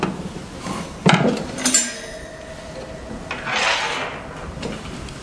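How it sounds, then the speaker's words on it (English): Metallic clicks and knocks of a screwdriver working loose the screws of a circuit board cover on a 3D sublimation machine, a few sharp taps and scrapes over quiet background. "Use the screwdriver to unscrew the 6 screws of the circuit board."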